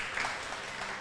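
Congregation clapping for God during an online church service in Bogor, a short steady patter of applause with no talk over it.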